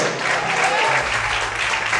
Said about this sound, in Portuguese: Você pode aplaudir e exaltar o nome de Deus por isso.